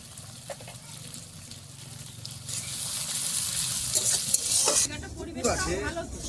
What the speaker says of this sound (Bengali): দেখুন টমেটোর আর পেঁয়াজটা ভাজা ভাজা হয়ে গেছে